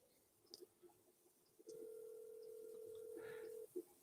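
A telephone tone sounds as a call is placed: a steady, faint electronic tone holds for about two seconds, with scattered soft clicks and background noise before and after.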